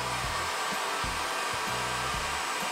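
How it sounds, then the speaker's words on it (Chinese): A Descom 5000TW hair dryer blows at its top speed, producing a continuous, loud, close whoosh of air. A low, uneven rumble wavers beneath the airflow throughout. "再来是 Descom 5000TW。"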